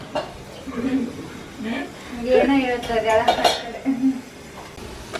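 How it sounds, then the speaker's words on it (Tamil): Dishes and cutlery clink and clatter as they are washed, with voices talking over the kitchen sounds. "இன்றைக்கி பாத்திரம் வாஷ் பண்ணுறதுக்கு லக்ஷ்மி ஃப்ரெண்டு ஹெல்ப் பண்ணிகிட்ருக்கா."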